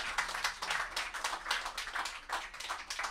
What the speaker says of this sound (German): den Applaus beanspruchen wir beide